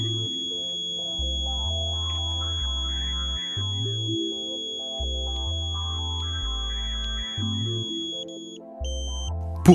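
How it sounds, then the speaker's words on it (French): A steady high-pitched continuous tone from a satellite pointing meter, aligning a Tooway Ka-Sat dish, holds throughout while deeper shifting synthetic tones and buzzy sounds pulse underneath, with a brief flurry of beeps at the end. "jusqu'à entendre la tonalité continue"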